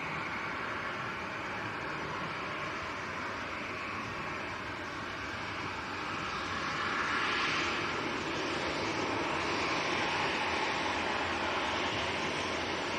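A Ryanair airliner taxiing or departing at Manchester Airport, a broad steady jet engine roar heard from a distance that swells slightly halfway through and holds, with no voices.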